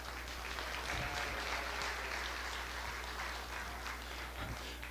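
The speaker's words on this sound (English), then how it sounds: "Give them a big round of applause." Audience applause at a county fair sheep show: faint, even clapping heard from a distance over a steady low hum, continuing without a break for several seconds.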